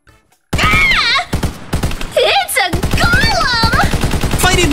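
Laser rifle shooting in Minecraft, rapid repeated zapping shots forming a loud rhythmic burst, mixed with excited groaning and cartoonish vocal sounds from people in the game.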